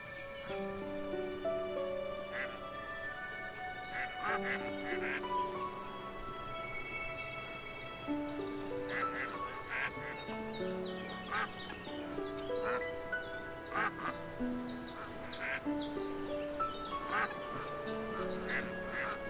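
Ducks in the farming game Everdream Valley quack repeatedly in a busy, overlapping flock, with short nasal calls scattered throughout and occasional chirps beneath, and no talk.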